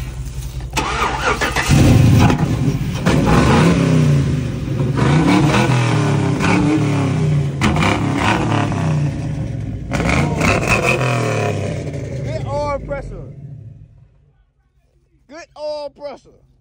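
A 1971 Chevrolet Impala convertible with an LS engine swap cranks over, fires and revs loudly up close, then settles before cutting off, followed by a voice talking near the end.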